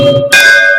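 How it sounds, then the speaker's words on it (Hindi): A single bright clang of a temple bell, close and loud, its metallic tone ringing on after the strike. "बाबा के दरबार में आओ तो घंटी"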